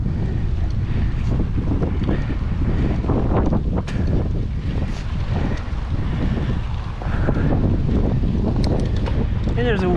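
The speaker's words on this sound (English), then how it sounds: "And there's a wind coming down the slope" Strong wind gusting down a mountain slope on the Peak 9 Loop Trail, a loud continuous low roar buffeting the microphone throughout with no let-up.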